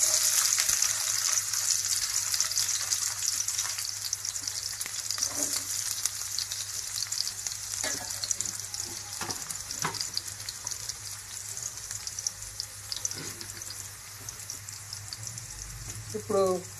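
Onions frying in hot oil give a loud hiss at first that settles into a steadier, softer crackle, with occasional scrapes and clinks of a spoon in the pan and a faint low hum beneath.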